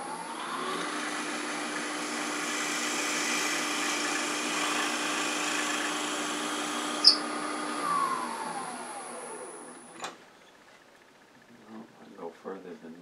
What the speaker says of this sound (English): I'm going to use the depth drill to get a better feel for when I've got near the bottom.